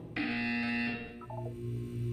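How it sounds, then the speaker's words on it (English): A single loud electronic buzzer sounds for under a second, harsh and tonal, followed by a soft hum of background music. "When you hear the buzzer, look down at the floor."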